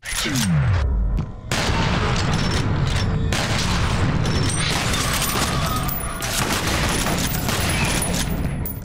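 Rapid gunfire and heavy shotgun blasts in the shooter Trepang2 sound loud and close, dense overlapping shots and booms with a brief pause near the start.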